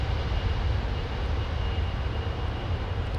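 A Qatar Airways airliner banks near London Heathrow Airport, its engines giving a steady, continuous low roar with broadband rumble that holds an even loudness throughout, with no voices over it.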